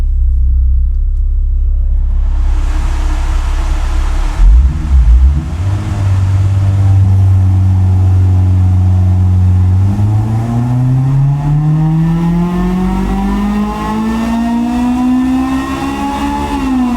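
A Honda K24 engine on a tuning setup idles with a deep rumble, then revs steadily upward through its range during VTEC tuning. The sound is loud, sustained and close, with no talk.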